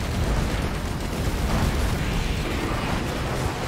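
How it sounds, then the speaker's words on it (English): Sticky bombs burst on a magma worm in Risk of Rain 2, a dense, loud rumbling barrage of overlapping explosions that rolls on without pause for several seconds. "the sticky bombs on the worm are pretty funny"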